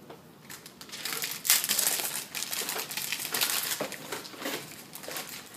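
Paper rolls crinkle and rustle as they are dropped into a Sonosite M ultrasound printer, a close, uneven run of crumpling and handling noises lasting several seconds.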